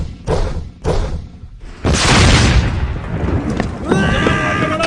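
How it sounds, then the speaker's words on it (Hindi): A rocket launcher is fired at a tank in a war scene: two heavy thuds come first, then a loud sustained blast roars and rumbles, followed by ringing debris and chaotic battle noise. "मुस्तफा, रॉकेट लॉन्चर फेंको। जाओ, उस टैंक का निशाना लो।"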